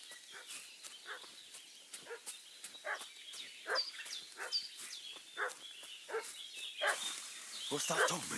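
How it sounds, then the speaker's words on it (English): A dog in the Kingdom Come Deliverance 2 video game barks repeatedly in a steady rhythm, with short yips mixed in, over a busy background of game ambience. "What's that dog making such a fuss"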